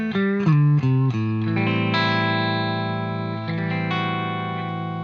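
Clean electric guitar played through a tube amp after switching off a distortion pedal, sustained chords and notes ringing out clearly with a slight chorus-like shimmer, steady and close, no voices.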